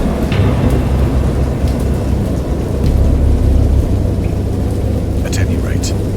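Video game thunderstorm: heavy rain pours steadily while deep rolls of thunder rumble underneath, swelling and fading in a continuous storm.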